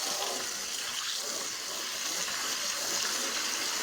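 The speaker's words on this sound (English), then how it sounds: "just put some cool water in it" Cool water pouring into a container for rinsing a small metal relic, a steady broadband rush of water running continuously and fairly close without pause.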